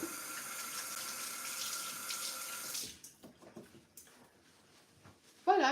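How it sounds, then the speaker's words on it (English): Tap water runs steadily into a kitchen sink for handwashing while baking a chocolate vanilla marbré cake, a continuous close hiss that cuts off near the midpoint, leaving faint clatter and a brief sharp sound at the end. "now you wash your hands."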